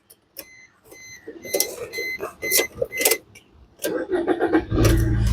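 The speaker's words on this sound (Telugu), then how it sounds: "ఈ కారు సింగిల్ సెల్ఫ్లో స్టార్ట్ అవుతుందా లేదా అన్న చూపిస్తున్నాను" Keys jingle and clicks near a 2015 Maruti Suzuki Swift Dzire VDI diesel car, then the starter cranks once and the engine catches, settling into a steady low idle at the end.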